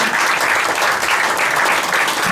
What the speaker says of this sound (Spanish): un aplauso para Antonio, porque sinceramente